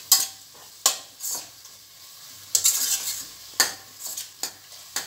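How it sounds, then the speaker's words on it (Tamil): Vegetables with fresh mint and coriander sautéed in a pan for vegetable biryani, with repeated scraping stirs over a soft sizzle, close and clear, each stroke a sharp bright scrape followed by quieter frying. "மிக்ஸ் ஆகட்டும், நல்லா கொஞ்சம் வதங்கட்டும்."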